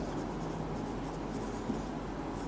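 Pen or pencil steadily scratching across paper while a letter to the editor is written, a continuous soft scraping texture that stays close and fairly quiet throughout, with no talking.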